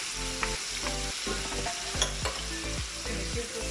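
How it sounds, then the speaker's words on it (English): Onions, chili and curry leaves sizzle in hot oil in a pan for a lamb curry, a steady close crackle with scattered clinks and scrapes from stirring. "now I'm ready to add the onions and our chili and curry leaf"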